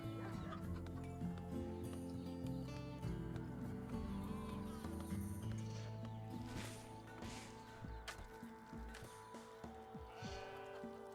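Clucking and bleating farm animals from the video game RimWorld, heard continuously over a dense, loud music bed.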